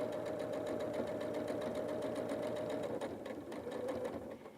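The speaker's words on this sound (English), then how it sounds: "And then we'll sew forward right on top of that top stitching line." A sewing machine stitches pants forward along a top-stitching line, a steady, close mechanical whirr with rapid needle rhythm running continuously before easing slightly near the end.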